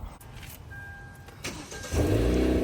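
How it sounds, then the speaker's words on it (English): A car engine cranks and catches at close range, swelling into a steady running rumble after a short stretch of quieter mechanical noise, with no talk over it. "Is that your first time ever starting a car?"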